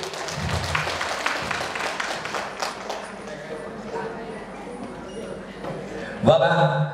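Audience applause at a Vietnamese Lunar New Year 2023 fan club gathering, a dense, steady wash of clapping filling the room throughout, with a brief louder burst of noise near the end.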